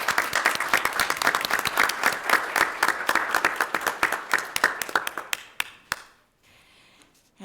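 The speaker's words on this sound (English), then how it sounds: "Let's give them a round of applause." An audience at a school district board of directors meeting applauds in a dense burst of clapping that thins into a few scattered claps, then stops, leaving near-silence.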